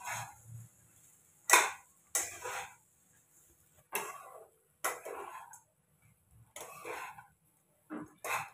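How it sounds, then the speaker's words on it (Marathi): Crushed peanuts stirred and roasted in a pan for a fasting khichdi, heard as short, separate bursts of scraping and sizzling with quiet gaps between them, close by and moderately loud. "आता शेंगदाण्याचा कूट पण टाकते आणि छान असं आपण परतून घेऊ."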